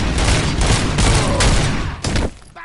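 Dense, loud bursts of gunfire from the PS5 RoboCop game rattle almost continuously for about two seconds, then thin out into a few scattered shots and fade.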